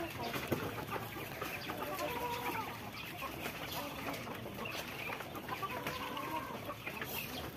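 Baby chicks peep and cluck among farm fowl at feeding time with ducks nearby, a steady busy chatter of many small birds with occasional rooster-like calls and brief voices in the background.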